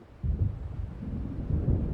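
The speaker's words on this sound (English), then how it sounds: "It seems there's a storm coming." Thunder from an approaching storm in the video game Alan Wake rolls in as a deep, loud rumble, swelling sharply and then surging again, with no voices.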